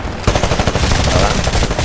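Rapid automatic gunfire from the video game Titanfall during an attrition match, a dense continuous burst of shots starting abruptly and staying loud and close throughout.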